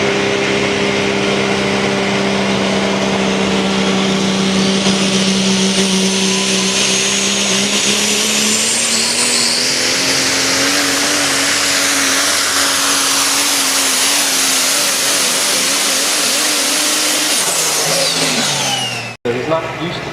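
A multi-turbocharged diesel pulling truck at a truck pull in Lyons, Indiana, revving loud and close with a rising turbo whine that climbs steadily for nearly twenty seconds before cutting off sharply, an announcer talking over it.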